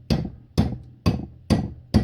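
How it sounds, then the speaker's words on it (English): A hammer taps a wheel bearing on a Daewoo Matiz during a bearing and disc job, five sharp metallic knocks at an even, unhurried pace, loud and close, each ringing briefly. "you want to grab yourself an hammer, and all you want to do is tap it either side."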